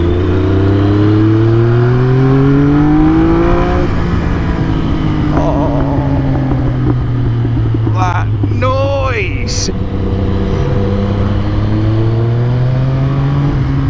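A Triumph triple-cylinder motorcycle engine revs up hard through rising pitch sweeps, eases off, then pulls again, loud and close, with wind and road noise throughout.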